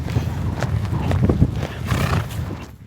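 Horses lope along a Texas trail ride, their hooves thudding in a steady, close, fairly loud rolling rhythm mixed with snorts and outdoor rustle, and no talking.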